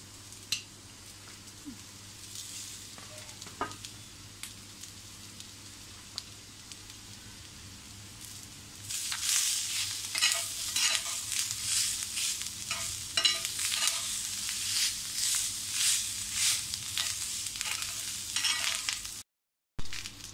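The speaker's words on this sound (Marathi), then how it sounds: "आता याच्यामध्ये आपण आलं लसूण आणि ओलं खोबरं टाकूया आणि ते छान असं भाजून घेऊया" Ginger, garlic and fresh grated coconut roast in a pan with browned onions for egg masala. A quiet stretch gives way to close, scraping stirs over a crackling sizzle.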